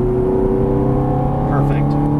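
A Ferrari F430 engine drones loudly and steadily on a race track, a dense, sustained mechanical roar under throttle. A brief voice is faintly audible over it near the end.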